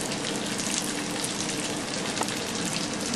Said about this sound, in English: And we're just going to keep stirring.